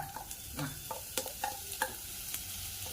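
Gooseberry pachadi stirred in a clay pot: soft, irregular scrapes and taps of the stirring spoon over a low sizzle, close but quiet, with no voices.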